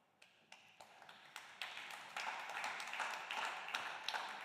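Applause from a conference audience at the CCA Token Summit 2024, starting as scattered claps and swelling into steady, moderately distant clapping.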